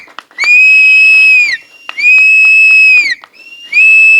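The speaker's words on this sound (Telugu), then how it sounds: "మరి ఆ విజిల్ మర్చిపోలేదు" At a Telugu song launch event, someone gives three loud, shrill whistles, each held steady for about a second and sliding down at the end, with short pauses between them.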